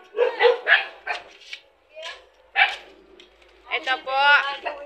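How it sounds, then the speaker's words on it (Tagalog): A dog barks several times close by, sharp yaps mixed with people talking and moving around. "muntik na po kaming makagat ng aso"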